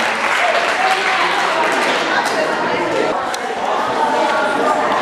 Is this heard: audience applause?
yes